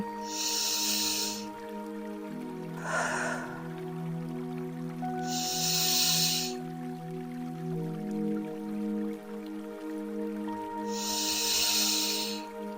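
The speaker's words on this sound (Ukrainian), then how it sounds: "І робимо глибоких 4 вдиха, видиха, стараємось відчути, як рухаються задні ребра." Slow, deep breathing during a morning stretching practice comes as airy hissing breaths repeated several times at an even pace over a soft, sustained musical background.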